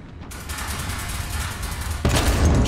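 Gunfire in a World of Tanks-style tank battle, a continuous close rumble of shots that jumps to a louder, heavier blast near the end, with no voices.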